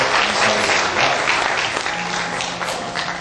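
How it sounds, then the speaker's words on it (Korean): An audience applauds at the founding ceremony of Gwangju Christian Daily and Christian Broadcasting, where appointment certificates are presented. The clapping is dense, steady and full, filling the room evenly throughout. "박수로 격려해 주시면"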